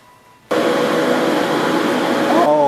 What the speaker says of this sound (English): a little bit noisy because of the fans in the paint booth